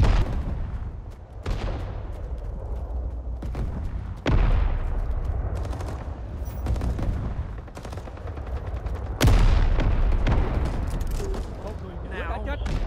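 Machine gun fire in Rising Storm 2, a war video game, rattles in heavy sustained bursts with sharp onsets, loud and close, mixed with distant gunfire, booming impacts and voices talking over the battle.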